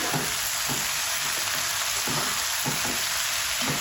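Okra frying over a high flame, a steady, close, loud sizzle that runs without a break, with faint stirring scrapes now and then and no voices.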